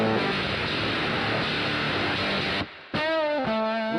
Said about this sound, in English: Distortion 2.